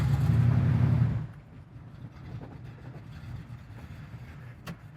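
A 1980 Camaro Z28 with Edelbrock upgrades cruises around the block, a loud low engine drone for the first second, then a quieter steady rumble with road and wind noise as it rolls on.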